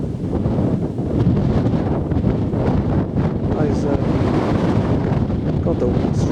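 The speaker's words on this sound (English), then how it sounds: "God, the wind's strong." Strong gusting wind buffets the microphone on an open coastal clifftop walk above the sea, a loud continuous roar with broadband rumble throughout.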